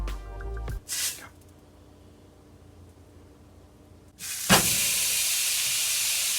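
Ground meat for empanadas hits a hot pan with a loud, steady sizzle and hiss that holds from the moment it lands to the end, after a brief clatter and a quieter stretch of faint kitchen noise.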